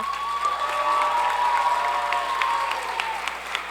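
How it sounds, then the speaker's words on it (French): An audience claps for the young sound and lighting technicians at a secondary school stage show's local final, a continuous bright patter of many hands with a sustained tone held faintly beneath it. "j'aimerais qu'on remercie, qu'on applaudisse nos 3 techniciens, nos jeunes techniciens"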